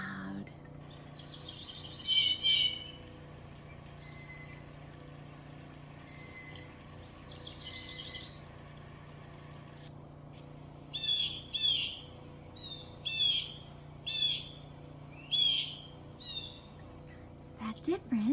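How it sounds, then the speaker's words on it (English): Blue jay calls played loudly from a recording: a series of harsh, repeated bird calls in short bursts, with a few isolated calls early and then a quicker run of them toward the end, over a faint background hum. "Should we hear what a blue jay sounds like? Let's make it nice and loud."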